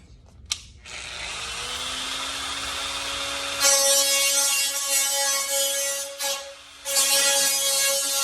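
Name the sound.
abrasive grinding disc cleaning up an edge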